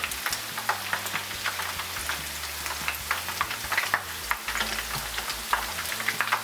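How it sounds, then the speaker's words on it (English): Coconut shrimp deep frying in clean hot oil, a steady close crackling sizzle with scattered sharp pops throughout and no talking. "we'll just let them fry"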